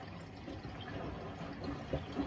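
Water splashes and trickles into a washing machine as it is added by hand, a faint, steady liquid wash with a couple of slightly louder pours near the end.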